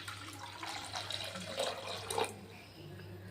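Water runs and splashes steadily into a pot of masoor lentils with turmeric, a soft continuous pour with faint gurgling that tapers off near the end.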